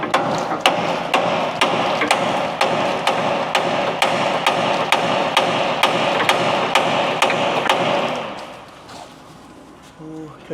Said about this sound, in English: This is what we got to break: the taper between these two pieces.